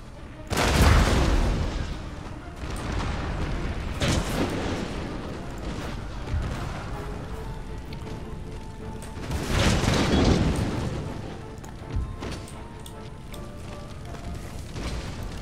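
Cannon and mortar fire in the Empire Total War strategy game, with several heavy booming blasts spaced seconds apart, rumbling decays and faint battlefield noise between them.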